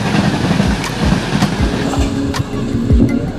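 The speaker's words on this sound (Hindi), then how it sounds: "ये नाहरलगुन से तिनसुकिया जाने वाला एक्सप्रेस" Express train running from Naharlagun to Tinsukia, steady rumble with rhythmic clickety-clack of wheels over rail joints, loud and continuous throughout.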